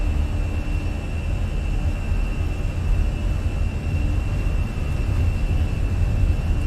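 Twin jet engines of a Fenix A320 airliner in Microsoft Flight Simulator roar steadily at takeoff power, a loud, even broadband rush with a constant whine running through it and no talking.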